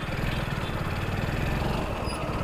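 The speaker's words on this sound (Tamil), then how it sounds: "வண்டி சவுண்டே வித்தியாசமாக இருக்கும் பாருங்க, கேட்குதா இன்ஜின் சவுண்டு?" A car engine idling roughly with an uneven, low chugging rumble, steady and fairly close.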